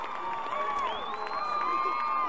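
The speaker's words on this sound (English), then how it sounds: "you can hear that Milford crowd" Milford High School fans cheering from the stands at the 1A Duchesne vs Milford state championship football game at Eccles Coliseum, a steady distant crowd roar under a broadcaster talking.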